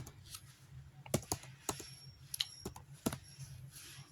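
Keystrokes on a computer keyboard while Python code is typed, coming as scattered quick clicks and short bursts, quiet and close, with no talking.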